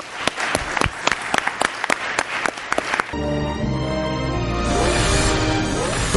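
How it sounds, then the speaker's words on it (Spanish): Warm applause from a forum audience of Guatemalan business managers, dense clapping that starts loud and scattered, then swells into a steady full wash that holds to the end. "un caluroso aplauso"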